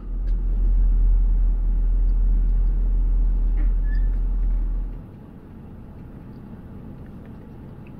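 A car drives through an international border crossing, its engine and road rumble loud and close for about five seconds before dropping away to a quieter idle-like hum, no talking.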